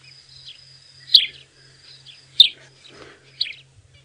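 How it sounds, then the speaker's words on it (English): A grey-headed sparrow calls at sunset in the African bush, sharp chirps repeated about once a second against a thin high insect whine and a faint low hum. "It is a grey-headed sparrow."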